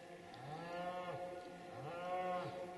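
Cows in a meadow give two drawn-out moos in a row, clear and fairly close against a quiet background.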